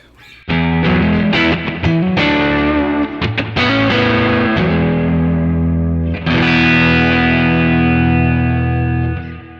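Electric guitar on the neck pickup, run through a Kemper King of Tone overdrive profile built on a Deluxe Reverb amp, plays a loud, slightly pushed, driven passage of sustained chords and single notes with a fresh strum near the end.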